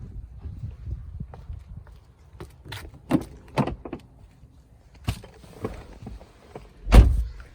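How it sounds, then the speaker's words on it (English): Loose play in a Ford Focus ST gear shifter, a few scattered knocks and rattles as the lever is wiggled, with one louder clunk near the end, close up and with no talking. "I'll kind of show you how much play is in the shifter, and like maybe the sound of it will help you be able to tell the difference"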